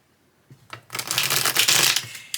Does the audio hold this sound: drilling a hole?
no